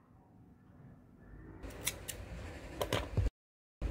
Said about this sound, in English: Cut your working yarn.